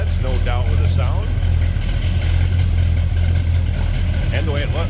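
A 1966 Chevrolet Impala SS 2-door hardtop idles loud and close, a deep steady rumble with a slight lope running throughout while someone talks over it.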